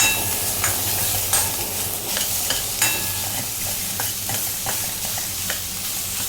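Masala paste for a spicy black pea usal being sautéed in a wok over medium heat, with a steady close sizzle and repeated scraping stir strokes at an irregular rhythm and no talk.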